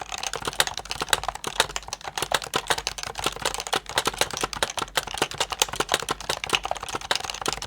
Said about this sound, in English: Here's the Happy Hacking keyboard.